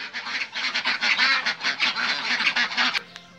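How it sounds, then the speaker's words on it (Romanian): Repeated loud honking and quacking calls from several waterfowl close by, overlapping in a rapid, rhythmic series before stopping abruptly. "M-am chinuit 2 minute să prind o rață"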